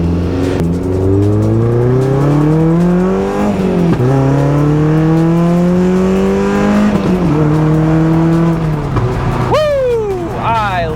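Mazda Miata NC engine revving up through the gears on a drive, with repeated rising pitch sweeps and brief dips at each shift, loud and close throughout with no talking.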